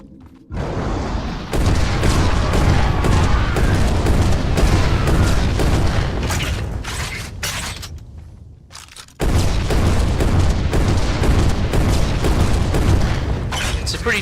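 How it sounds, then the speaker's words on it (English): Vulcan minigun variant in the zombie game Revulsion firing sniper rifle rounds, a loud, dense, sustained stream of booming shots that briefly cuts out, then resumes at full intensity. "the Vulcan is a much slower, but fires. It uses sniper rifle rounds, and it fires like this"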